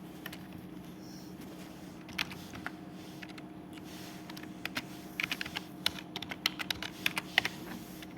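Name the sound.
typing on a computer keyboard to log in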